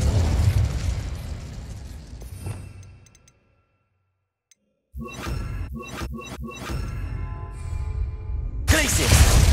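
An Incendio fire spell in Hogwarts Legacy goes off in a loud, roaring fiery blast that fades to silence, followed by a string of sharp crackling bursts and a final loud surge.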